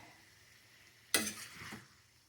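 Cooked pasta in garlic and olive oil being stirred in a pan, a single brief scraping, sizzling swish that quickly fades back into quiet, with no talking.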